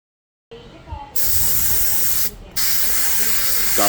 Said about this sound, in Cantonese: 我喺主要嘅組件噴上灰色底漆